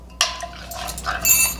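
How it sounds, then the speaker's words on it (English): Metal spoon scraping and clinking against a bowl while stirring yogurt starter into milk, a few short close scrapes and taps in quick succession. "if it does stick to the spoon, just keep stirring"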